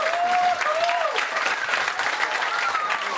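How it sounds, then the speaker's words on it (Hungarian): Wedding guests applaud the performers at a Hajdúdorog wedding reception: dense, steady clapping throughout, with a brief tonal whistle or voice rising above it at the start. "egy nagy tapsot hagy kérek a szereplőknek"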